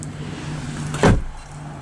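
Engine cover of a 2017 Lamborghini Aventador LP700-4 Miura 50 Edition swung shut, a single solid thunk close by against a quiet steady hum.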